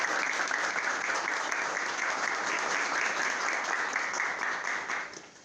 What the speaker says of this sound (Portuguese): E palmas para nossa irmã Natália e nossa irmã Maria Fernanda